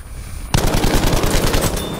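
A Browning medium machine gun in Battlefield 5 bursts into loud, rapid sustained automatic fire after a short quiet moment, with the shots hammering close and continuous.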